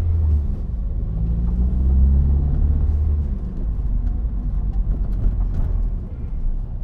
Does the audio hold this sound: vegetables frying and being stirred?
no